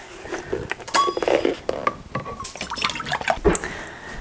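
Water and white vinegar are poured into a pot for pickled coleslaw brine in a home kitchen, with splashing liquid, clinks of a measuring cup against cookware and brief clatter, close and fairly loud.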